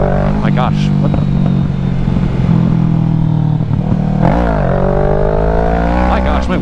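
Motorcycle engine revving hard during wheelie attempts, loud and close, with rising surges of throttle and wind rush under a rider's speech inside a helmet.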